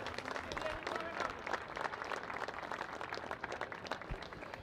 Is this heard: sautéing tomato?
no